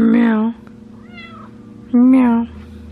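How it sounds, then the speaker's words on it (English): Two loud, close cat meows, each about half a second long, separated by a quieter high mew. "She's being a cute little kitty. Meow."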